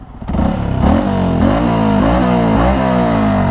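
A Yamaha R15 V3 motorcycle with a Ronin Hanzo exhaust in silent mode idles and revs in a smooth, steady hum, its muffled exhaust note rising and falling a few times, fairly close.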